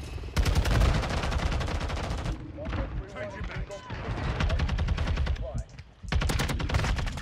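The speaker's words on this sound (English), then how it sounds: "I don't know how I lost that gunfight, man" Rapid automatic gunfire from a TAQ-56 rifle in a Modern Warfare 2 gunfight: dense, loud bursts open the scene, a scrappier stretch of scattered shots follows, then heavy rattling fire returns at the end.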